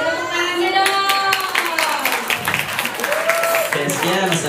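An audience at a school Ramadan event claps in scattered bursts of applause, with voices calling and chattering over the clapping.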